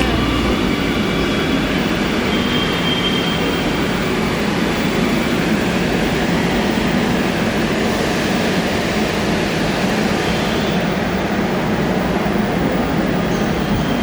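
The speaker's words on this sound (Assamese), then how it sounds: "আমাৰ মেট্ৰ' আহি গ'ল।" A loud, continuous roar of an arriving metro train at a station, close by and steady throughout, with a faint high whine above the rumble.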